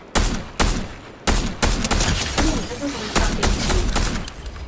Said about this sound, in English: Darth Vader was trying to shoot